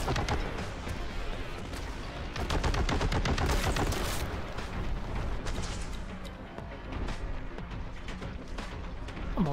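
Rapid minigun fire in the video game Warhammer 40,000: Boltgun, a dense, continuous roar of rattling shots and heavy booms, loud and sustained, thinning toward the end.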